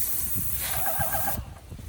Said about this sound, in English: So when I'm spraying, I'll come up and down.